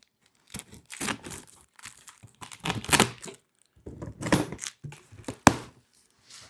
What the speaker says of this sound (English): just cut along both sides.